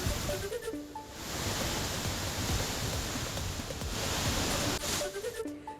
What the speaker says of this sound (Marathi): या पावसामुळे प्रसिद्ध सिरवेल महादेव मंदिरालगतचा धबधबा प्रवाहित